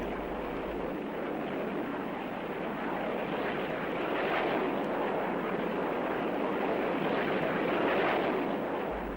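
Soviet fast jet fighters fly past with a continuous loud, broad jet roar that swells slightly midway and stays steady throughout, with no speech.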